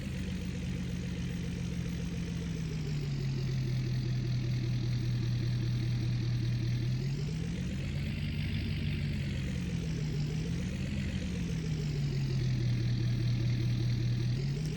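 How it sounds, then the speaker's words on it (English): Vehicle engine in Farming Simulator 19 driving steadily, a continuous low droning hum whose pitch dips and rises with speed changes, loud and close throughout with no talking. "I thought I'd drive down to the tractor."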